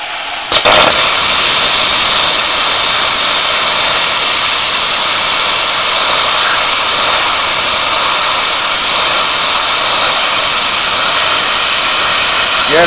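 A plasma cutter set to 15 amps and 40 PSI air pressure slices through metal with a loud, continuous high-pitched hiss that begins with an abrupt burst and holds steady throughout.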